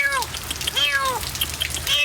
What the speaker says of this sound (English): It's a kitty trying to stay dry in the rain.